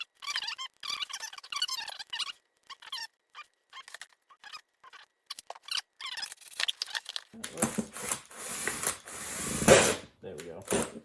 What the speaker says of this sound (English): let's drill some holes. We got a 2-inch hole here, roughly.